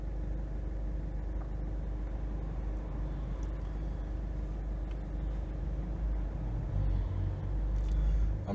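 Road traffic with cars passing, a continuous low engine rumble and tyre roar that swells toward the end as a vehicle draws near, with no talking.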